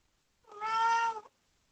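A single drawn-out meow from a house cat asking to go outside, close and clear, lasting under a second against a quiet room.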